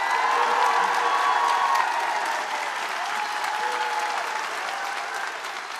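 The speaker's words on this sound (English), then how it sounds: "show us an enormous roar and round of applause for everyone affected" A large crowd gives an enormous, sustained round of applause mixed with cheering and a few whoops, loud and dense at first, then easing slightly while continuing.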